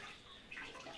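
Clay mud is rinsed off hands in a small bucket of water at a pottery workspace, giving a soft, continuous swishing and sloshing close by with no talking.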